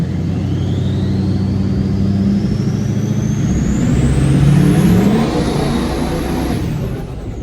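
A GM Duramax diesel truck in four-wheel drive runs over dirt with the boost raised to about 12 PSI, a loud, steady engine roar and drivetrain whine rising in pitch as it accelerates, with no talking.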